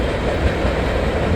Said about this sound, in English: Old heavy grain train to start the day off here.